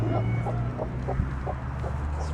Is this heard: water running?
no